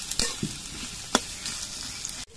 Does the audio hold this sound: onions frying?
yes